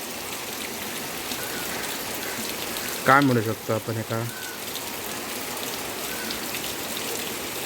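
Steady monsoon rainfall hisses throughout in a village in Konkan, India, with someone briefly speaking partway through over the constant patter.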